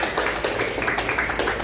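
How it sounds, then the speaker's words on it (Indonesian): Applause from an audience at an Indonesian talk about family, a steady dense patter of clapping filling the whole moment with no voices over it. "tepuk tangan yang sudah memberikan jawaban"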